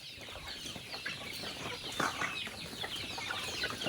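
Chickens kept in a coop near feeders cluck quietly at a distance, with scattered soft calls and one slightly louder squawk midway over a steady background hiss, some faint rustling, and no talking.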